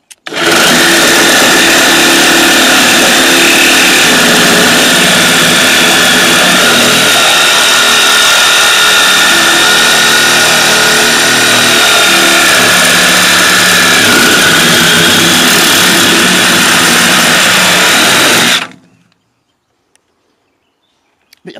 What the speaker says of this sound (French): je vais couper celui d'en dessous avec la lame Hilti